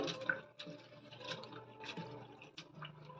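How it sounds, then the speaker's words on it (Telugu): Thick poha (flattened rice) being washed in water by hand, with soft sloshing, splashing and dripping sounds that stay close and steady throughout. "మనం వాటర్ వేసి బాగా 2 సార్లు శుభ్రంగా కడిగి తీసుకోవాలి"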